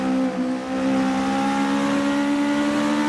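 Clubman race cars run flat out side by side on a circuit, their engines holding a loud, steady high-revving drone with layered tones throughout.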